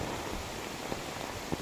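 Heavy rain pours in a soft, continuous hiss, with a couple of brief louder drips or taps standing out near the end and no talking.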